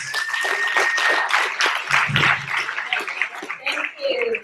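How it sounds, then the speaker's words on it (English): Brief applause and clapping for a speaker at a division meeting, scattered claps mixed with voices and light laughter, fairly close and uneven rather than a full roaring ovation. "let's give her a huge round of applause"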